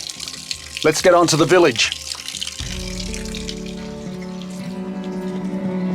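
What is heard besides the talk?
cool mountain water flowing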